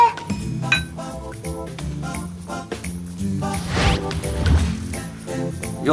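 Glasses clink together in a celebratory toast, a few bright chimes set against steady background music.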